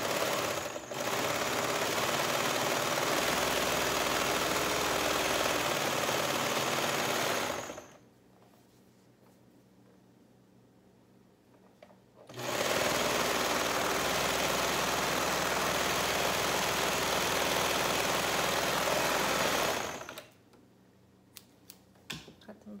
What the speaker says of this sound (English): You're going to sew down this seam. It's the underarm.